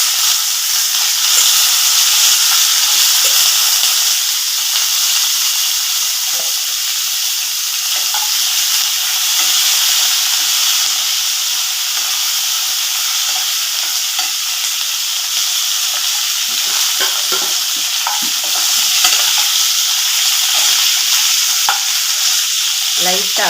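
Brinjal pieces sizzle loudly in hot oil with fennel seeds in a pan for an egg and brinjal curry, a dense continuous frying hiss with small crackles and occasional gentle stirring, close and without speech.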